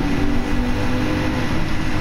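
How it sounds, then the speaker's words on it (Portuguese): Mercedes-Benz AMG GT S with a 4-litre 32-valve twin-turbo V8 roars steadily in Gran Turismo 7, a loud, continuous engine drone throughout with no talk. "Mas o Mercedão V8 biturbo ronca"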